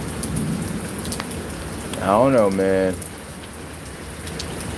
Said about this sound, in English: I'm gonna sit here, enjoy the rain